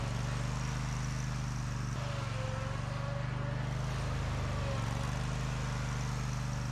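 A Bad Boy Magnum zero-turn mower engine runs at a steady, loud rumble while pivoting through 180-degree turns on aggressive tires, with slight shifts in pitch, no talk.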